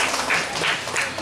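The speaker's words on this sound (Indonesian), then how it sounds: "Kita berikan tepuk tangan yang meriah untuk Bapak Gubernur kita, Bapak Victor Rumpil Laskeran." An audience claps for the governor at a school restaurant inauguration, giving a short burst of steady, fairly loud applause with a faint voice underneath.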